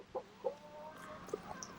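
Hens in a small summer coop cluck softly nearby, several short clucks and quavering calls scattered unevenly through a quiet background.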